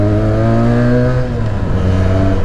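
Benelli 302 BN motorcycle from 2020, its small parallel-twin engine growling steadily at low revs with a rough, throbbing tone, close and loud throughout with no talking.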